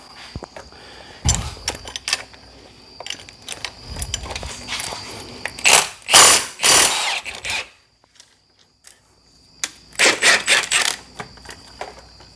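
A ratchet wrench works loose 10 mm bolts on an Acura Integra's cruise control box with a B18C1 engine, making uneven bursts of close, loud clicking and rattling, then a short pause before a final flurry of clicks.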